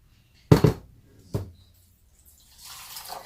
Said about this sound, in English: Then we need a cup of water.